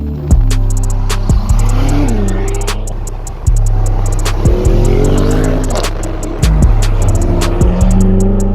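A BMW car engine cold-starts and revs repeatedly, loud and close, with sharp throttle blips settling between into a rough idle.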